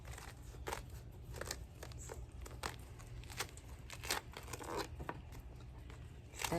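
Dried luffa gourd skin being scored and peeled away by hand, giving repeated brittle tearing and crackling bursts at close range over a low steady hum, with no talking.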